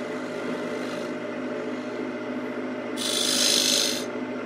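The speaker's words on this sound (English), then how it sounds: "Make our recess. This is basically just a scraping cut." A wood lathe spinning at around 1,000 to 1,500 RPM hums steadily while a scraping cut carves a recess into a wooden plate, with two rasping bursts of tool contact, the second louder, and no talk.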